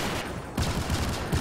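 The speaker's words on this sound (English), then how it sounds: "there was a shot" Gunfire in a cooperative first-person video game, heard as a few short, sharp bursts over a steady rumbling game soundscape, moderately loud.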